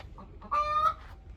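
One of six backyard hens in a homestead coop gives a short clucking call, a brief close vocal burst over a quiet background, heard alone without talk.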